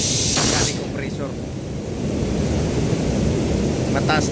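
A steady loud hiss of air blowing from an air compressor fills the clip, with brief clanks and short bursts mixed in.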